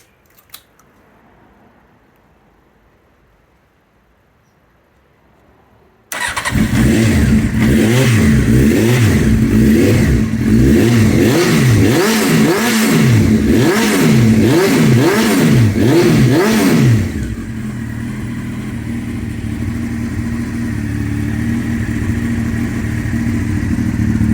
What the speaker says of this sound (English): So just to prove she now works with the tank on, I'll give her a start up